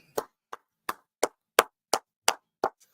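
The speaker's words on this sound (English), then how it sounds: "Let's clap it up." Eight sharp, evenly spaced hand claps ring out alone, close and crisp with silence between each.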